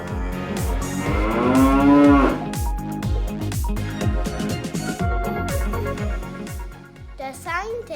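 Cows mooing loudly and close, long low drawn-out calls overlapping one another over a steady pulsing rhythmic backing, with a brief rising call near the end.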